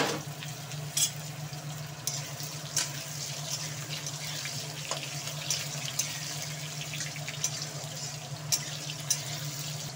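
Potatoes fry in hot oil in a pan with a steady, soft sizzle and occasional crackles and pops, continuous and close throughout.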